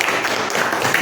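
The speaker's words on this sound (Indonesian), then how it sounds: "Bapak minta semua bertepuk tangan" A classroom of students claps their hands together, producing a brief, dense wash of overlapping claps.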